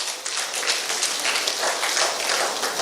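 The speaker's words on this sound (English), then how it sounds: "Can we give Plateau State a round of applause?" A crowd applauds with dense, sustained clapping that holds at a steady level throughout.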